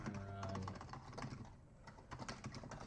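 Fingers type on a computer keyboard in rapid, irregular clicks while coding, close and fairly faint, with a brief tonal hum at the start.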